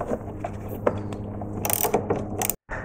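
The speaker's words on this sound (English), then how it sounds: "And then we'll take our 10mm and tighten that down." A 10mm ratchet tightens the cable clamp on a car battery terminal during a Mazda 3 transmission control module change, giving rapid, close pawl clicks in several bursts with a brief pause near the end.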